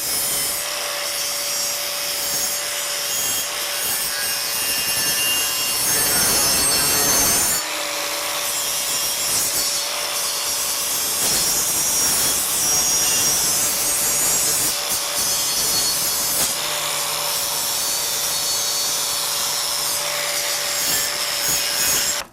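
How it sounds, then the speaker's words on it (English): A grinder running at full speed on painted wood veneer gives a loud, close, continuous abrasive rasp over a steady motor whine, with a brief break near the middle before grinding resumes. "when you turn the grinder up and you don't have a variable speed grinder"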